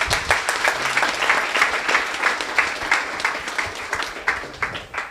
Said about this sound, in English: So a big round of applause for BD tonight.